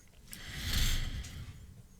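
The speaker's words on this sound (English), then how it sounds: "You sound like a wild animal breathing into that microphone" A single heavy, breathy exhale close to the microphone, swelling and fading with a rough, gusty rush of air.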